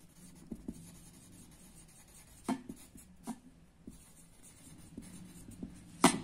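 A red marker writes the words "deciduous forest" onto paper during a classroom lesson, giving soft scratchy strokes with a few sharper taps and squeaks spread over several seconds.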